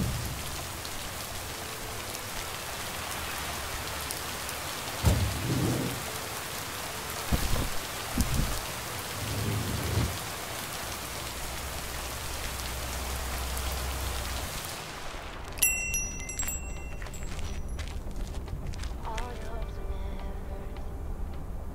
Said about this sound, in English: there will be a thunderstorm tonight